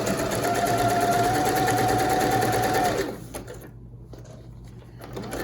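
A sewing machine runs in a steady fast whir while stitching elastic onto a fabric bowl cover, then stops after about three seconds, leaving faint handling noise close by.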